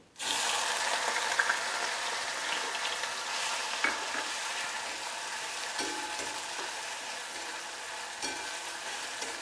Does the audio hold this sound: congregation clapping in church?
no